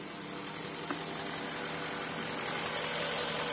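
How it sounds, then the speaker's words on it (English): Porsche Cayenne S 957 engine idling steadily and smoothly after a carbon cleaning of the intake, a continuous even hum heard close up with no voices. "But the engine is running smooth."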